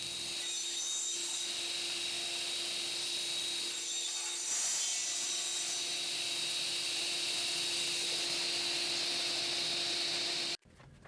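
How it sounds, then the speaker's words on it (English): A table saw with its crosscut fence set to 45 degrees cuts a wedge from wooden vertical braces, giving a steady, loud whining drone of the blade through the wood that stops abruptly near the end. "I adjusted my crosscut fence to 45 degrees and cut a wedge out of the vertical braces"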